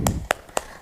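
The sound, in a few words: rhythmic hand clapping (tepuk kebersihan)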